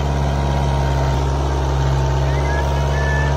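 A Kubota 4x4 tractor pulling a harrow runs with a loud, steady low engine drone and a constant hum throughout, with a voice talking over it.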